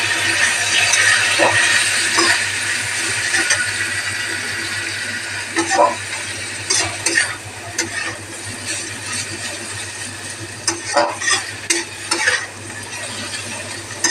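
Chow mein sizzles and fries in a hot pan while it is stirred, with vinegar splashed in partway and scraping clatters standing out at intervals over a steady frying hiss.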